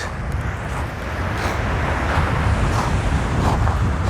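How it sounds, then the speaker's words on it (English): Outdoor wind buffeting a microphone, a loud, steady roaring rush with gusty low rumble that builds slightly and holds, close and alone without talk. "It's a little bit of wind."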